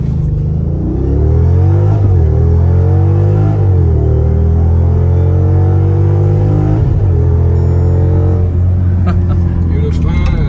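Jeep Grand Cherokee SRT Stage 2 accelerating hard from standstill in a 0-100 run, a loud close engine roar climbing through gears with distinct revving sweeps and shift dips, sustained and powerful throughout.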